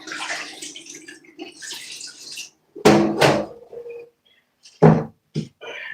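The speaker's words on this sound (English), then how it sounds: "I'm just straining the water." Water pours and splashes through a strainer as washed carrots are drained in a kitchen sink, coming in a few loud, close bursts with quieter running and dripping water between them.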